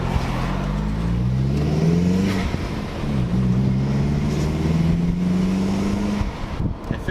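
A remapped Mk4 Golf pulls hard on its first drive, the engine note rising steadily through the revs, dipping at a gear change and climbing again, loud and close from inside the car.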